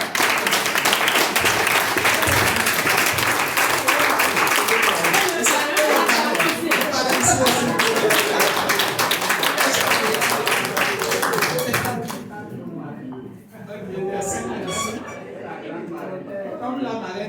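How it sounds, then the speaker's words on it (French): An audience claps steadily and loudly to cheer a woman named Marie at a product training event in Togo, with the applause fading out and scattered chatter following. "Aidez-moi aussi à acclamer Marie"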